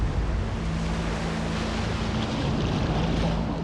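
Ocean surf breaking along the shore at Bondi Beach, a steady, loud wash of churning water with wind noise over it, continuous and close, with no voices.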